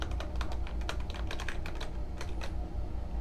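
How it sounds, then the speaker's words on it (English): Fingers tap across a computer keyboard in quick, uneven bursts of close clicks over a low background hum, with no voices. "That way you can still type."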